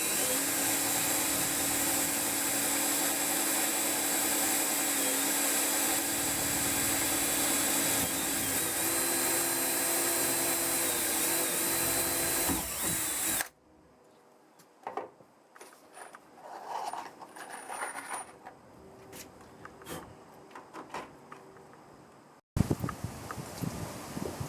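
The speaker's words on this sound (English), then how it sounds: "I'm fixing to drill bolt holes" Power drill boring bolt holes through aluminum switch panels for a boat's center console, a loud continuous whine for about thirteen seconds, then stops, leaving quieter handling noises and scattered clatter.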